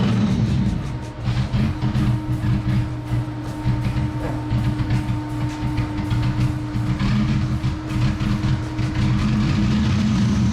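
A third-generation car engine with an injector problem idles roughly, a loud, close low rumble with an uneven, pulsing beat and no talk.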